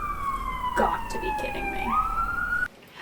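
A siren passes outside, its tone held steady and then sweeping upward before cutting off abruptly, with a voice speaking over it indoors.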